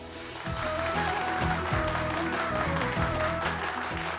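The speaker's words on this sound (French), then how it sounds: "Veuillez les applaudir, s'il vous plaît." Guests at a celebration in a Bollywood drama series applaud together, a dense, steady wash of clapping that swells in after a brief quiet start and carries on evenly, with faint music underneath.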